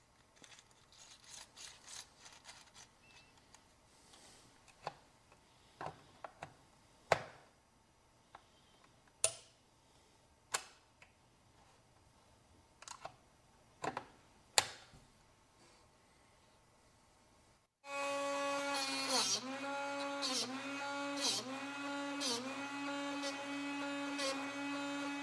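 Quiet scattered clicks and taps give way to a loud, steady grinding whir as a drill bit is aligned and sharpened by a small motorized Drill Doctor sharpener.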